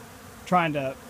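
A short burst of loud, dense honeybee buzzing during a robbing frenzy rises suddenly, a harmonic drone of many insects close by, with a faint quieter hum before it.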